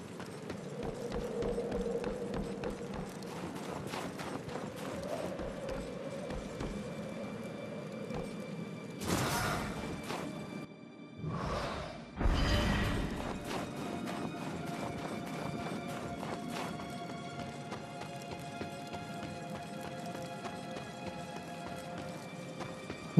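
Horse hooves clip-clopping at a gallop in the video game Darksiders, a steady rhythmic run in the background with a few louder bursts of game effects partway through.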